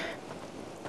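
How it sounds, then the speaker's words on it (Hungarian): Steady rain hisses and patters in a continuous wash of noise, fairly close and even. No voices are heard. "Kezd esni az eső."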